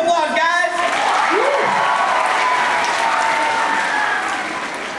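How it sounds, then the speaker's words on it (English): An audience breaks into loud, sustained applause at a stand-up comedy event, a dense wash of clapping from many hands that swells quickly and then holds steady before easing slightly, with voices heard briefly at the start. "Give a round of applause, guys!"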